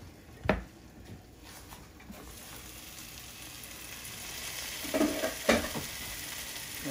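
Tofu fries with spinach in a pan and is scrambled like eggs into a breakfast dish. A steady, soft sizzle continues throughout, broken by a few sharp scrape-and-stir clatters of the utensil, heard close.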